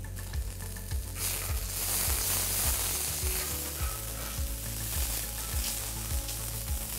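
Ginger garlic paste sizzles in a hot pan with browned onions, a dense continuous frying hiss that swells briefly, over a rhythmic low thumping and with no talking.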